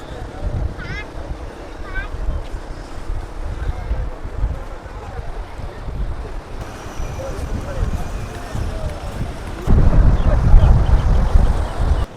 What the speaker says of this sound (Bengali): আর এই হলো সমুদ্র